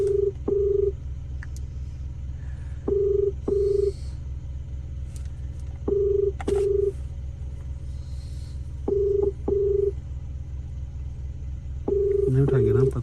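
Repeated pairs of short electronic ringback tones at steady intervals over a low constant rumble inside a moving Hyundai i20 N Line car on a road trip, ending with a brief burst of other noise.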